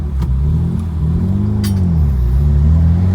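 Engine of a Mitsubishi VR4 idling in neutral with the clutch in, loud and steady, its pitch hunting slowly up and down around a rough idle with no talking.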